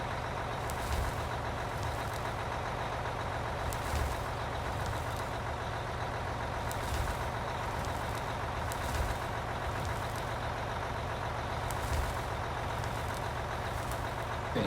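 Heavy mining trucks in the video game Out of Ore give off a steady engine rumble and drone that holds evenly throughout, with faint periodic beeps and clicks on top and no speech.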